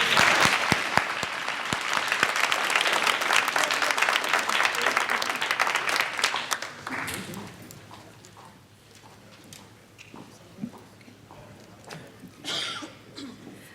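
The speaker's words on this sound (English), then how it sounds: "Another round of applause, please." Loud, sustained applause from a seated audience at a 2019 HCC Veterans Day ceremony fills the first seven seconds, then fades into a quieter room with scattered claps and small noises.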